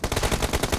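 Rapid automatic gunfire from PUBG Mobile, a tight, loud, evenly spaced string of about nine shots fired in quick succession.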